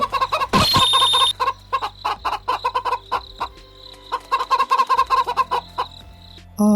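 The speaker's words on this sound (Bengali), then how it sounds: "হঠাৎ বাইরে মুরগির কান্নার শব্দ শুনে" Chickens cluck loudly and repeatedly outside in a Bangla cartoon, a rapid run of close squawks and clucks with a short pause before another burst.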